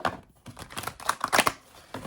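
A large deck of tarot-style cards being shuffled by hand, a dense, continuous riffling rustle with soft flicks and taps, close and alone.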